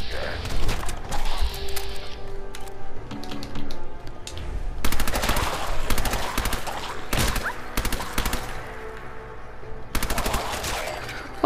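A submachine gun fires in Fallout 4, long rapid bursts rattling close and loud, broken by short pauses amid other game sounds.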